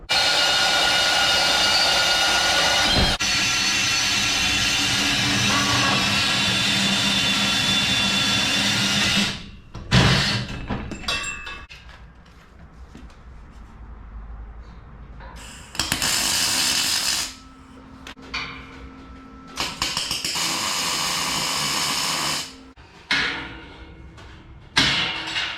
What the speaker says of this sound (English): So now I'm going to cut and notch this piece to the right height.